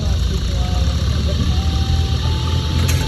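Tractor engines rumble during a tractor race, a steady low drone of running motors heard close and loud throughout, with people talking over the noise.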